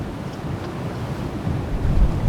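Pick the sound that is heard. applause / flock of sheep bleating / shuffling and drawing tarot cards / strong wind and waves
strong wind and waves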